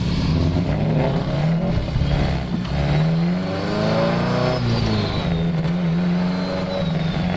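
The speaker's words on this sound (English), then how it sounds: "Like you're blipping the throttle between gears sort of thing." A boosted car engine revs hard with the throttle blipped between gears, loud close drone rising and falling in pitch with quick spikes, alone without talk.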